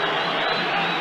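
A football stadium crowd at a Dundee United versus Hearts match roars steadily, a dense continuous cheer welcoming a player back on his return.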